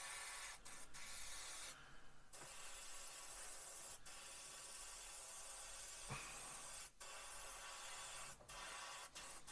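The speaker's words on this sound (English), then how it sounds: "you don't have to keep spraying even patterns" A Gaahleri GHAC 98D airbrush hisses in a steady spray of freehand camo paint, with a few brief pauses and clicks in between, close and fairly quiet.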